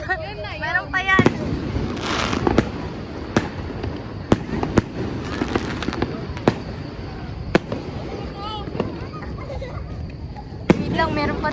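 Fireworks explode over a New Year celebration, sharp cracks and booms recurring irregularly across the whole stretch, some close and loud, others lighter, over a steady background rumble with people talking and calling out.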